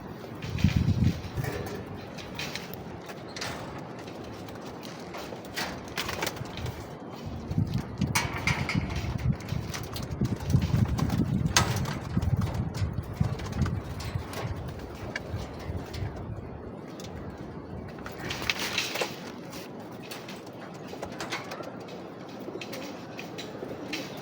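Racing pigeons coo softly and repeatedly inside a loft, with shuffling and rustling noises and a steady background hum throughout.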